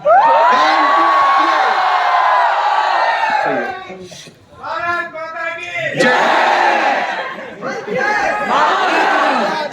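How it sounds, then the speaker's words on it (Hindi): A large crowd of students at a live offline coaching institute event in Kalu Sarai, Delhi, shouts, whoops and cheers loudly, with dense sustained roaring that briefly dips then surges back, mixed with excited chatter. "एक बार जोर से चिल्ला दो यार"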